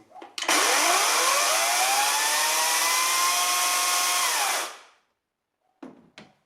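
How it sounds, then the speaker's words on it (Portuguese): A Parkside PKSA 40 Li A1 cordless electric chainsaw starting up, its motor whine rising gradually to full speed, holding a loud steady buzz, then winding down to silence before a couple of brief knocks. "o arranque é um arranque lento. Começa a aumentar cada vez mais a velocidade, gradualmente até à velocidade máxima"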